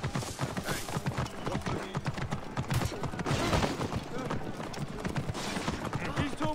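In Assassin's Creed Origins, rapid hoofbeats of galloping horses clatter steadily throughout, loud and close, with bursts of other game noise and some voices mixed in.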